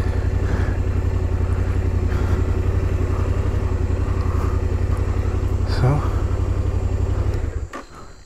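A motorcycle engine idles with a steady, close, pulsing low rumble while the bike is brought down to a lower spot, and a voice speaks briefly before the engine cuts off near the end.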